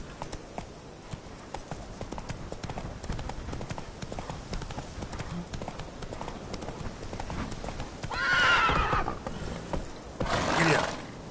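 Horse galloping in The Witcher 3 video game, a rapid clip-clop of hooves running steadily throughout at moderate volume, with two louder bursts near the end as the horse neighs.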